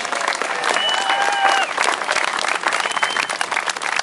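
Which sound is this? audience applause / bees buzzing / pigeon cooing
audience applause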